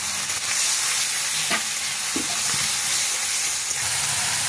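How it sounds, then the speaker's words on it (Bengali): Cumin powder spice mix frying in a pan with a splash of water, stirred steadily: a continuous broad sizzle with a few soft scrapes of the spoon, no voices. "আর দেবো 1/2 চামচ জিরে গুঁড়ো দিয়ে এটা এখন ভালো করে একটু নাড়াচাড়া করবো"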